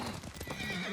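A horse in Ghost of Tsushima: Director's Cut neighs close by while its hooves clop in quick steps, a short loud burst with no talking.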